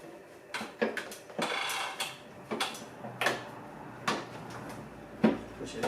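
Plastic side cover of a 2020 Harley-Davidson Road King Special pressed onto three rubber grommets, giving a string of soft, close knocks and clunks spaced about a second apart.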